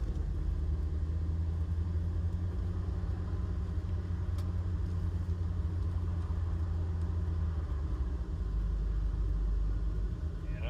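A C4 Corvette cruising on the road, heard from inside as a steady low engine drone and road rumble, constant and fairly loud with no talking.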